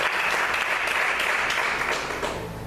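Congregation applauding in a church, a dense, steady wash of many hands clapping close and loud throughout, easing slightly toward the end, with no talk.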